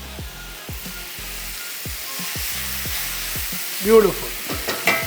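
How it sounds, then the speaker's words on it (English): Chicken searing in a hot cast iron pan gives a steady close sizzle, with rhythmic scraping stirs throughout. A brief word of speech comes near the end. "We are giving this a nice sear at the moment."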